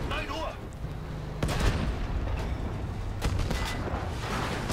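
Rocket fire and explosions in the video game Battlefield 5, with loud booming blasts at about one and a half and three and a quarter seconds over a continuous dense battle rumble.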